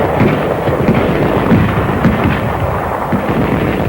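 Grenades and bangalore torpedoes go off in dense, overlapping rumbling blasts and cracks during a 1944 Marshall Islands battle, with continuous loud concussive noise throughout.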